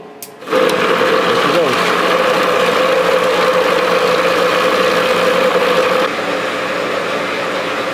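A brand-new buffing wheel whirs steadily and close, used while refurbishing vintage Anton Wingen Jr. skinning knives; the constant motor drone starts abruptly and eases slightly near the end.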